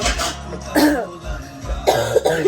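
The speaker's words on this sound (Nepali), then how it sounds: "अलिअलि बिचमा खोक्छु पनि होला क्या" A woman coughs and clears her throat in a few rough bursts, close and fairly loud, with short gaps of breathy quiet between them and no clear talk.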